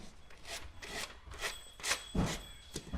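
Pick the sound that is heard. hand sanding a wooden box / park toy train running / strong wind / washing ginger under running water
hand sanding a wooden box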